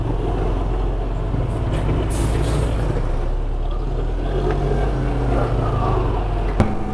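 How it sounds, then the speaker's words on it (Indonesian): Trucks grind up the steep Sitinjau Lawi climb close together, a steady loud low engine drone with heavy rumble throughout, heard from a nearby vehicle, no talking. "Ini truk pada rapat-rapat semua jaraknya ini"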